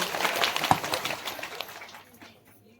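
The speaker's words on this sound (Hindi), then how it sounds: "जोरदार तालियां आपके स्वयं के लिए" Audience applause at a crowded outdoor gathering, a burst of clapping that starts moderately loud and fades away over a few seconds.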